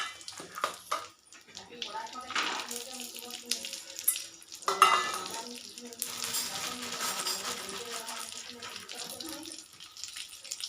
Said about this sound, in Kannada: ಈಗ ಚೆನ್ನಾಗಿ ತುಪ್ಪದಲ್ಲೇ ಫ್ರೈ ಮಾಡ್ಕೋತಾ ಇದ್ದೀನಿ ನೋಡಿ.